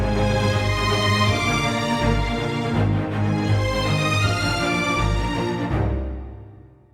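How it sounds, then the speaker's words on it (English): Orchestral violins from the Synchron Prime library play a rippling, almost arpeggio-like figure over sustained string chords, loud and continuous, before fading out at the end. "I'm using the violins to highlight those two chords with this almost arpeggio-like figure"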